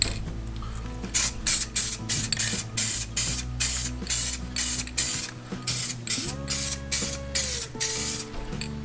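A spray gun lays a coat onto aluminum parts in a series of short, loud hissing bursts, each a second or less, separated by brief gaps. A low mechanical hum runs underneath.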